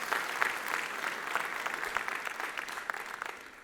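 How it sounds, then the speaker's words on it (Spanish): A church congregation applauds to God during a Spanish-language sermon, steady dense clapping that holds at moderate level for several seconds with no voices on top. "Dale un fuerte aplauso a Dios."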